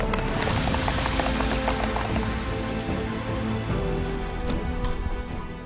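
Horse hooves clip-clop steadily from a mounted ceremonial bodyguard unit founded in 1773, a dense rhythmic clatter of several animals close by, mixed with broadband outdoor noise and no speech.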